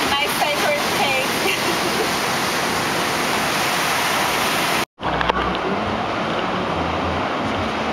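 Surf at Uluwatu Beach on Bali gives a dense, continuous roar of breaking waves, loud and close, broken by a sudden brief cut about halfway before the rushing wash resumes.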